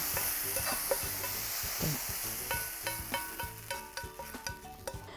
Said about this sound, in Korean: 팬에서 바삭하게 그냥 물기 없이 볶아주시면 좋을 것 같습니다